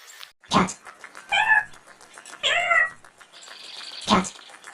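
A cat meows twice, each call drawn out and clear, set between a few sharp, loud noises nearby, with no talking.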